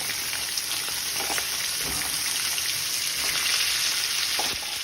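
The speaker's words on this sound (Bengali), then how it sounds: "এবার মাথাগুলোকে ভালো করে ভেজে নিতে হবে।" Hilsa fish heads fry in a pan with a steady, close crackling sizzle, occasional spatters popping over the continuous hiss.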